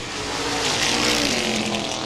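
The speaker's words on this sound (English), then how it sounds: "This time by, white flag will go in the air for the Coe Heating and Cooling, car number 28 of Scott Coe." Modified race car roaring past on the Baer Field Speedway oval in Fort Wayne, Indiana, a loud sustained engine howl that swells and holds as it goes by, with no voices.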